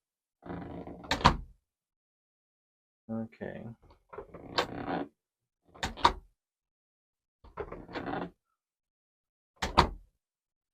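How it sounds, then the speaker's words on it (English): A side door into a bedroom shut five or six times in a row, each a sharp thud with a rattle at a different force, separated by silent gaps, with brief talking between some closes. "So now let's do the side door, or the door into my room."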